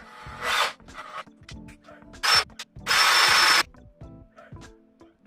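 A large Makita drill driver bores through wood held in a Milescraft drill guide, giving two short bursts and then one sustained loud drilling run of about a second, with quieter knocks and handling noises between them.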